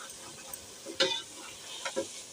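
Masala sautéed in a pan for a curry, with a faint steady sizzle and a few brisk spoon scrapes against the pan, close by and quiet, with no voices.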